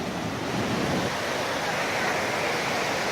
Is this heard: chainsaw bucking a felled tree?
no